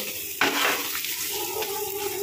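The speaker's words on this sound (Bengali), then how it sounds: "এবার দিয়ে দিয়েছি ডাল বাটাটা।" Ground lentil paste dropping into hot oil with plenty of ginger in a pan for kachori filling, a sudden loud sizzle that settles into a steady spitting crackle with a few stirring scrapes.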